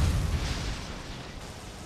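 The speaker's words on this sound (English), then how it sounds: "We're gonna lock onto that and destroy it with a super missile." A super missile detonates in Metroid: Other M, a loud, dense blast with a heavy low rumble that fades slowly over about two seconds, with no voices over it.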